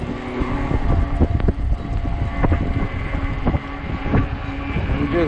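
Strong gusty wind buffets the microphone while riding a 20-inch 48V Ecotric fat tire e-bike in 30 mph gusts, a constant loud roar with rumbling bumps and clunks from the ride.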